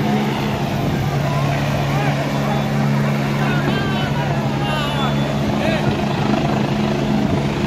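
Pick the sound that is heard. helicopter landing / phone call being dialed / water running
helicopter landing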